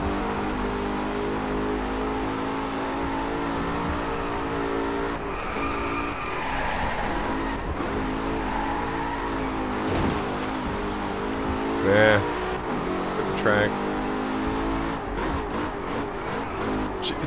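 Racing car engines in the PS4 video game Driveclub roar and rise in pitch as cars accelerate through gear changes, loud and continuous, with brief tire squeals cutting in near the end.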